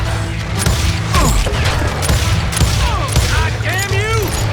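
Rapid enemy gunfire in the Western shooter Call of Juarez: Gunslinger, loud dense bursts of shots crackling continuously through the scene, layered with game effects and a voice speaking over it.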